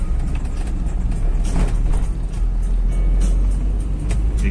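A Toyota Kijang Krista engine pulling uphill in fourth gear, a steady loud low drone from inside the car with no knocking, continuous throughout.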